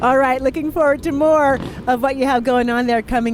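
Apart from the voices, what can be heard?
No everyday noises stand out.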